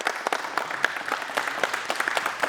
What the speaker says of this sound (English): Let's give him a large round of applause